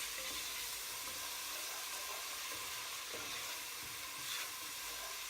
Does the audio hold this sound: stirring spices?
yes